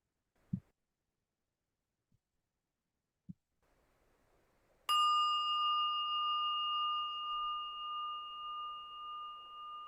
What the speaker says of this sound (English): Allowing the bell to invite us more and more into the present moment.